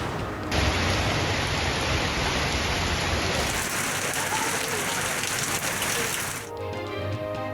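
Rain falls steadily in Karachi as a dense, constant hiss of drops on surfaces, loud and even throughout before easing slightly at the end.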